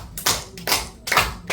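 An audience claps hands together in rhythmic group bursts during a health lecture, four loud waves of clapping, close and without talk.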